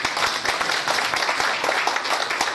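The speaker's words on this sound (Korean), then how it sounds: "혹시 사기가 아니라고 생각하시는 분들은 박수 한번 쳐주시면 돼요" A seminar audience at a housing subscription briefing gives close, lively applause, a dense patter of many hands clapping steadily throughout.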